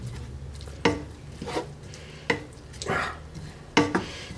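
Pork stir-frying in a pan after sugar and ground toasted Szechuan pepper go in, with four sharp scraping stirs and softer sizzling bursts between them, close by and with no talk.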